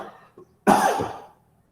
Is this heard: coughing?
yes